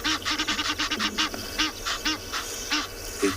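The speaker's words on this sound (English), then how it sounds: "The Egyptian geese have already seen the lion, that's why they're going bizarre there." Egyptian geese on a sunset safari give a rapid series of loud, harsh honking calls, some a dozen in quick succession, close and alone against a quiet evening background.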